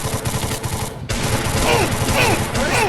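Desert Eagle pistol shots in a first-person shooter video game, sharp bursts of gunfire over busy game noise, with a sudden louder stretch of rapid shots and whooshing effects toward the end.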